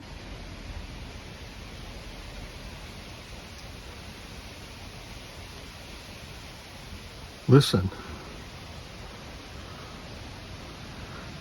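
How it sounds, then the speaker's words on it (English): Steady broadband outdoor hiss of a quiet, large national park campground in White Mountain National Forest, with a single brief clatter near the end and a short spoken word. "This is the sound of a large, major national park campground"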